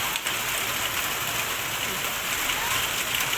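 Heavy rain pours steadily in a hilly Uttarakhand village, a dense, even hiss of drops drumming on surfaces at close range, with no talk over it.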